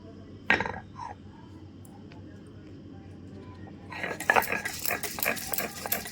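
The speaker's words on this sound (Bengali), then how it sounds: "এটা আমি শিলে পেস্ট করে নেব।" Whole cumin, coriander, black and white mustard seeds, ginger pieces and green chilli are crushed on a stone slab (shil), with an early scrape and clink, then a bout of rough rhythmic grinding strokes.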